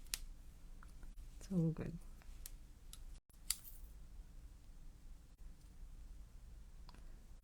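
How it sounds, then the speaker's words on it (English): Scissors snip a small piece of patterned craft paper during card making, a couple of quick close cuts amid light clicks and desk handling, with a person speaking briefly. "Just trimming this little piece off here."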